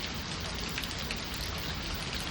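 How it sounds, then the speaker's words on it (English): Heavy rain mixed with drizzle pours down steadily during a June storm in Arlington, Texas, a dense, even hiss of water on surfaces, loud and continuous with no voices. "So right now I'm looking at a mixture of heavy rain and drizzle."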